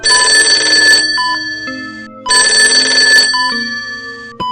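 An old-style telephone rings twice at a hospital nurse station late at night. Each loud, bright bell burst lasts about a second, then a short ringing tail fades before the next.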